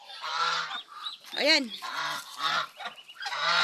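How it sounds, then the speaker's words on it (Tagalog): Pekin ducks give a run of loud, nasal honks, one sharp call standing out among repeated quacking honks close by, while a person speaks briefly over them. "Ayan ang ating mga Peking duck."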